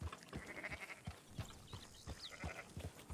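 Sheep in Red Dead Redemption 2 bleat repeatedly over a busy game soundscape, several short bleats spaced irregularly at moderate loudness with a brief high chirp mixed in.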